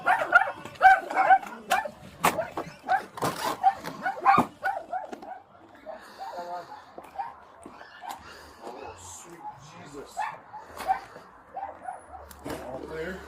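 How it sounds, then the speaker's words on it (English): Many dogs kept in horrible living conditions bark, yip and whimper in a busy chorus, partly near and partly farther off, while people talk over them. "No, there's like 100 dogs in there."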